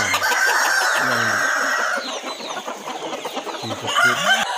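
KUB chickens in a farm setting, with a rooster's drawn-out crow at the start followed by a flock's busy, overlapping clucks and short calls, close and fairly loud.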